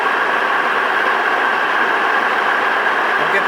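A boring machine spindle runs steadily with its clutch engaged, giving a continuous, even mechanical hum and whir that stays constant throughout with no pauses.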